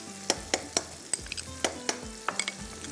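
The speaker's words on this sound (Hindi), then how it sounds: "अब इसकी करनी है भुनाई अच्छे से," Mutton being stir-fried with red chilli, salt, ginger, garlic and cumin masala, a utensil scraping and knocking the pan in irregular strokes over a steady sizzle, close up and with no talking.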